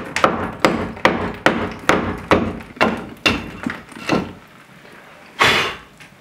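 A hole is knocked into a wall by hand with crude manual tools: about ten sharp, loud hammer-like blows land in a steady rhythm, close up, followed by a pause and one final scraping thud.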